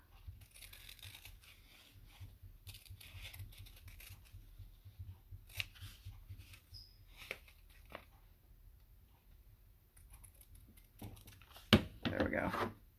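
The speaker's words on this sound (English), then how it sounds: "I'm going to take my pinking shears and just sort of trim" Pinking shears snipping along a paper edge, a series of faint, close crisp cuts with quiet pauses between, and a louder rustle of paper at the end while a voice speaks.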